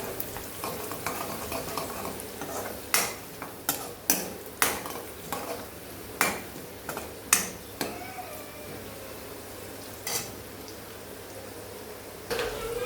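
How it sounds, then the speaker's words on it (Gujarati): A spoon stirs dry potato bhaji with turmeric and curry leaves in a pan, giving a run of sharp, irregular clinks and scrapes over a low kitchen hum, with no one talking. "હવે આપણે ઉમેરીશું આમાં અડધી ચમચી જેટલી હળદર અને ત્યારબાદ તેને આપણે બરાબર મિક્સ કરી લઈશું"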